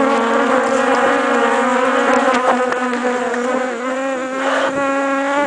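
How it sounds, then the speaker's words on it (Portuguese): A dense swarm of honeybees buzzes all around a beekeeper handling hives on a farm, a loud, continuous, close drone with shifting pitch that fills the whole stretch without a break. "Eu tô cheio de abelha aqui, não tô conseguindo nem filmar."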